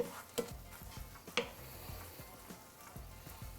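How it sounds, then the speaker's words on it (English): Spaghetti and ingredients sautéed in butter in a pan, a quiet close sizzle with soft rhythmic stirring scrapes and a couple of sharper clicks. "Saute all this in butter."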